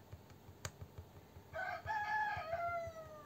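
A rooster crows once at a distance, a rising and falling cock-a-doodle-doo lasting about two seconds, after quiet tapping and a sharp click nearby.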